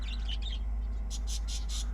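A wren calls in a residential garden, a series of bright rapid chirps and trills, fairly close, over a steady low background hum.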